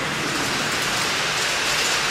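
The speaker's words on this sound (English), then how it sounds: "It's raining, like heavy raining." Heavy rain pouring down in a dense, steady hiss that fills the whole stretch without pause, loud and close, with no voices.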